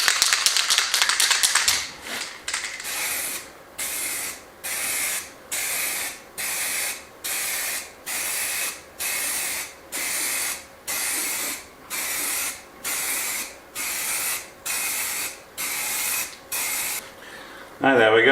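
High-temperature spray paint hisses from an aerosol can in about fifteen short, even bursts with brief gaps between them. The can is being used to coat an old bread oven door, and it sounds close and steady.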